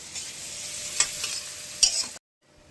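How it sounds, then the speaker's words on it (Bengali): Steady oil sizzle of onions frying, with a couple of sharp stirring clinks against the pan, then it cuts to near silence. "পেঁয়াজটা একটু লাল করে ভাজা ভাজা হয়ে যাক"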